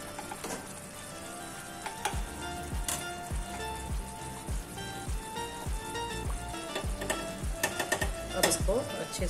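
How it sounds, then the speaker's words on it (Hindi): Moong dal halwa is stirred in a pan after ghee is added, with a steady sizzle and frying crackle under repeated scraping strokes of a spoon, close and moderately quiet. "इसको अच्छे से मिक्स कर लेंगे।"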